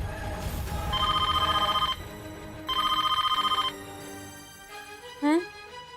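Telephone bell rings in two long bursts separated by a pause, loud and close, with a voice and other sounds following afterward.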